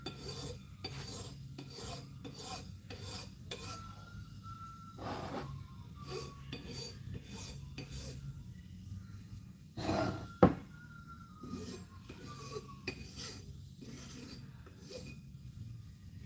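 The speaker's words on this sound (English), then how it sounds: "if you ever find yourself doing this filing, you want to hold the file" A hand file rasps across a Harley Evo cylinder head in steady back-and-forth strokes, faint and close, with one louder knock partway through and no talk.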